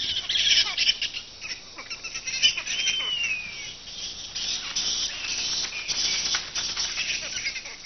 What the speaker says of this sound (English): It is mating season for the bats. Even during the day, the colony bustles with activity.